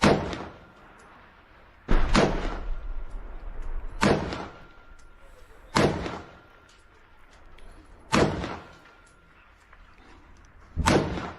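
Six loud, sharp gunshots fired at a drone ring out at irregular intervals, each with a brief echoing tail, separated by quiet stretches.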